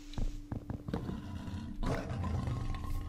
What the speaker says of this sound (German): Ein weißer Tiger.